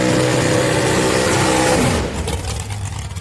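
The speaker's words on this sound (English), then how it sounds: "Little dragster action here" At a street-night drag race at Houston Raceway Park, a dragster launches with a loud rising engine roar for about two seconds, then quickly fades as it pulls away down the track.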